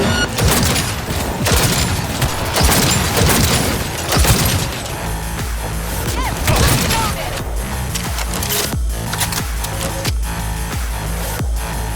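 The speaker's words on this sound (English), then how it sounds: "All units report. Opening fire." Gunfire in the video game Cyberpunk 2077, dense and loud, with rapid bursts and booming impacts over a continuous wash of game music and effects, barely any gap between shots.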